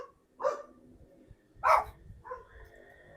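A dog barks twice in separate sharp bursts about a second apart, with a fainter third yelp trailing after, fairly close and alone over a quiet low rumble.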